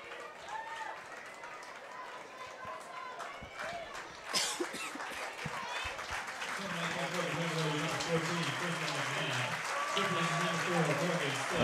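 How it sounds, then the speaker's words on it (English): Spectators at a women's college soccer match between Maryland and Virginia applaud as a player comes off, the clapping rising into a fuller crowd wash under a commentator's ongoing talk. "Nice round of applause as Morgan Stith comes out"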